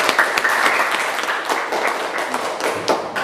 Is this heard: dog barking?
no